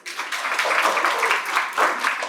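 Studio audience applause on a quiz show, a dense burst of clapping that starts abruptly and holds steady, swelling again near the end.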